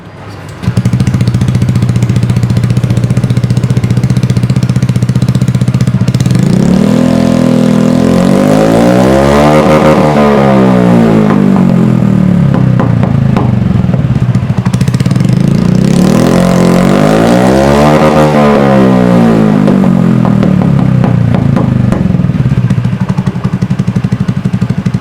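A Honda Beat scooter fitted with a Leovin GP Corsa racing exhaust, loud and close, idling and then revved hard twice, each time rising and falling in pitch with a raspy exhaust note.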